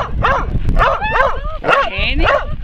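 Small dog barking and whimpering, several close high yips and whiny cries in quick succession, loud and clear, with some human voices mixed in.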